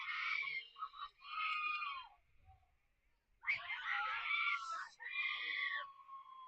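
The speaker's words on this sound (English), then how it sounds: "Shrieking fans down there." Shrill, high-pitched shrieks from fans at a boys' high school lacrosse game rise in two long waves, loud and piercing, with a brief lull between them.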